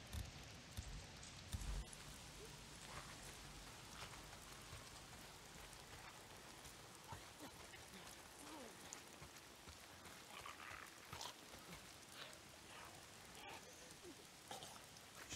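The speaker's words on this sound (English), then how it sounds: "If it's not the freaks, it's the goddamn rain. Why is it always raining?" Steady rain pours through a rainy outdoor scene in the video game Days Gone, a continuous dense hiss with scattered drop detail, with someone speaking over it at times.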